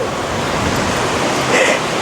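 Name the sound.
ocean waves on a Jamaican beach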